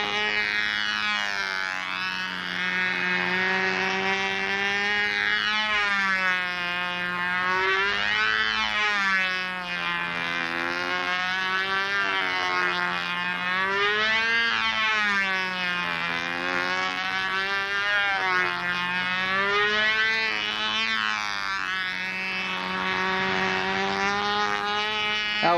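A Brodak Cardinal control-line model airplane's small glow engine runs continuously at a high, steady buzz, its pitch wavering up and down as the plane circles, loud and unbroken with no talk.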